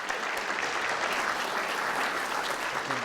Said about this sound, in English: Let's give Michael another round of applause.